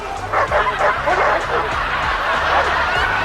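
Dogs barking in GTA V, a quick series of sharp, loud barks and yips repeating in a steady rhythm close by, with a voice talking over them.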